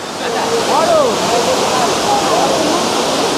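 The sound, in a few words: Elephant Falls waterfall in Meghalaya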